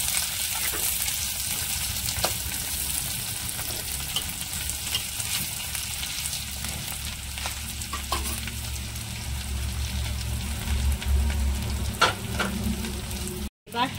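Potatoes dropped into hot oil in a frying pan sizzle loudly and steadily for a Bengali eggplant and river fish dish, with occasional stirring clatter and a brief cut near the end.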